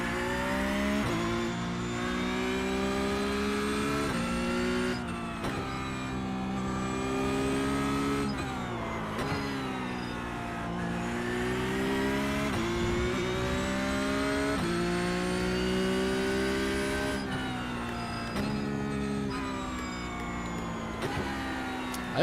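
A Porsche Cup race car engine in the iRacing sim at Charlotte Roval roars loudly and continuously, its pitch climbing and dropping through repeated gear changes and revs with no talking.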